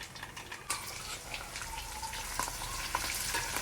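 Garlic, ginger and green chili frying in a pan for Kerala pickle, a steady close sizzle and crackle with occasional sharper spits and stirring scrapes.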